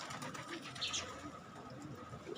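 Pigeons cooing softly beside a mate, low faint throaty coos over quiet background hum, no talk.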